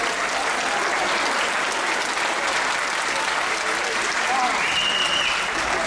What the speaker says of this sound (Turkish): Evet, alkışlar Bilge Kurdal için.